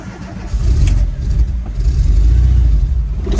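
Engine of a 1987 VW Vanagon Syncro running while in second gear, a loud, close, steady low rumble that swells slightly after starting, with no talk over it.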